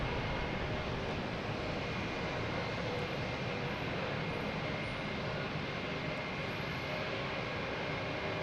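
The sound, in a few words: Cape Air plane taking off at Boston Logan Airport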